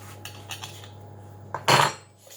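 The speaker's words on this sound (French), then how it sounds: "avec un couteau, je vais couper les bords qui dépassent" A knife scraping along the rim of a metal tart mould to trim overhanging pastry for a lemon tart, a few light scrapes followed by one louder, sharp metallic stroke close up, no talk.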